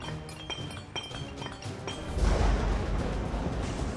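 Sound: bubble crystals being broken into tiny pieces

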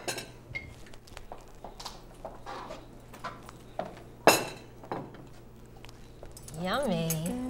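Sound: spooning food onto a plate at the table

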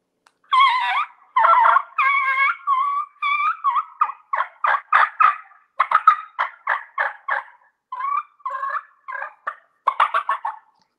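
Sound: hunter imitating wild turkey sounds with a turkey call

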